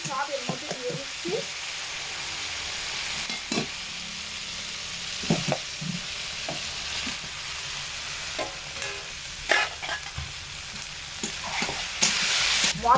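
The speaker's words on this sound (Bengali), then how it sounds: "মশলার মধ্যে বেগুন আলু একসাথে দিয়ে মিডিয়াম আঁচে 3 থেকে 4 মিনিট সময় ধরে খুব ভালোভাবে কষিয়ে নিচ্ছি" Fried potato and brinjal sizzle in spice masala over medium heat for a fish curry, with a continuous fry hiss and frequent scraping and clattering stirs against the pan, up close.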